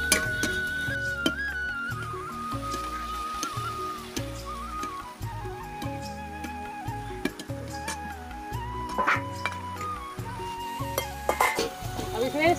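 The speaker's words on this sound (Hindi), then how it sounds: "अभी इसे हम छौंक लगा देते हैं" Vegetables being tempered on a clay stove make soft sizzling and stirring sounds at close range, with scattered clinks of a utensil against the pan.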